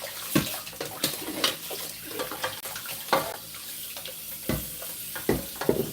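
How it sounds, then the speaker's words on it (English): Tap water runs steadily while juicer parts are rinsed and scrubbed with a sponge, with close splashing and intermittent clattering knocks of plastic pieces under the stream, and no talk. "run water."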